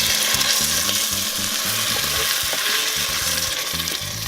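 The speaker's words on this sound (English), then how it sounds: "You can hear it sizzle." Steady, loud sizzling of tomatoes frying in a hot pan, a continuous crackle with a low rhythmic hum underneath and no voices.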